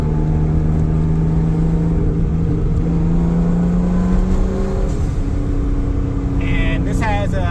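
A Nissan R32 Skyline GTS-t drift car with a limited-slip differential accelerates at full throttle, its turbocharged engine droning loud and steady inside the cabin as the pitch climbs slowly. A driver talks over the engine.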